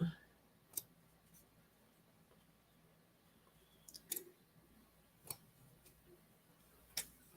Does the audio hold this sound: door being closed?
no